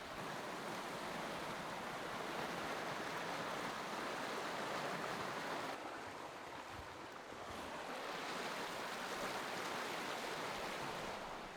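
A river in Idaho rushes steadily at a crossing on a spring bear hunt, a continuous broadband wash of flowing water with a slight dip midway and no voices.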